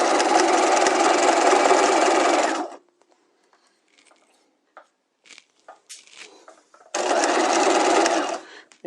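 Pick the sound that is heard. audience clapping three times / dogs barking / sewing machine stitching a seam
sewing machine stitching a seam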